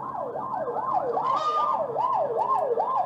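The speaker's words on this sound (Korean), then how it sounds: "앰뷸런스는 또 내 뒤로 들어오네요" An ambulance siren comes up from behind on a road, wailing in a smooth, rising-and-falling cycle that stays loud and clear throughout, with no voices.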